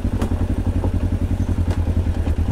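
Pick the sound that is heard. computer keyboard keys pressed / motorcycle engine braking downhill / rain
motorcycle engine braking downhill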